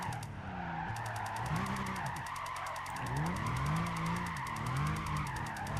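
Nissan GT-R in Gran Turismo 5, hand-braked into a drift: tires squeal in long, wavering skids whose pitch rises and falls over a steady engine drone, close and continuous, with no talking.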